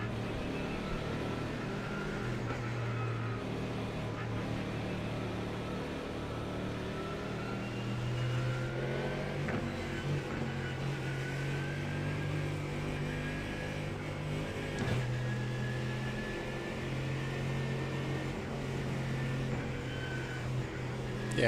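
Mazda MX-5 race car engine at Sebring during a race, a steady loud drone with shifting pitch that holds constant throughout, with no clear gear changes or passes.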